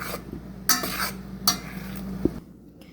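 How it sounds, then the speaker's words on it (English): Mushrooms with a splash of water are stirred in a pot, with several clattering bursts of a utensil against the metal over a low steady simmer, close and fairly loud. "Now we're gonna mix it around and cook it for 6 minutes until the mushrooms give juice."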